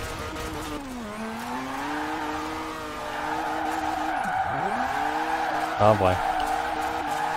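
A car drifts in Forza Horizon 4, engine whining and sweeping in pitch as tires squeal through the slide, with a brief sharp screech near the end and someone talking over it.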